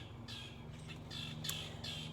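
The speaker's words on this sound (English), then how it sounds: "Oh, and now there's a bird?" A bird calls outdoors in a few harsh, squawking bursts over a steady low hum, fairly close and moderately loud, with no talking.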